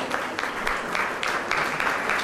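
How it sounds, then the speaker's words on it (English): Audience at a school event claps in a continuous round of applause, close and fairly loud, with dense overlapping claps and faint rhythmic surges. "Ladies and gentlemen, a round of applause."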